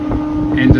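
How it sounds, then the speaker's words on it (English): A low, steady horn-like drone from conch seashells being blown sounds briefly on the Pityusic Islands, with a voice speaking over it and wind buffeting the microphone. "they're blowing in these, you know, these seashells"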